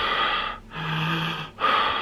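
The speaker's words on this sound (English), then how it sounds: "I just did loads of breathing in" A person breathing in deeply after coughing, three long airy inhales and exhales in a close, steady rhythm with brief pauses, one breath carrying a slight throaty tone.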